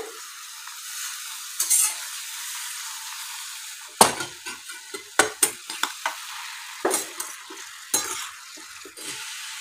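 Grated carrots are stirred in ghee in a pan for carrot halwa: a spoon scrapes and clinks against the metal in uneven strokes over a soft, steady sizzle, close up, with no talking.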